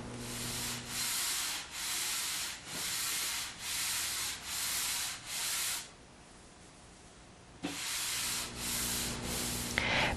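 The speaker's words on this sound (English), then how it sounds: "gently sand down the grain until it's smooth again" Rhythmic hand sanding across a cured polyurethane coat on plywood, following the grain: steady back-and-forth rasping strokes, close and fairly quiet, with a pause partway through before the strokes resume.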